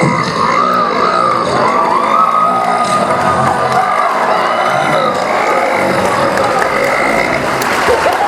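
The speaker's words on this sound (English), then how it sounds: "give him a 4-second burp right now" Long, drawn-out burp from a man at a convention panel, sustained for several seconds amid loud crowd noise, cheering and applause that fill the room throughout.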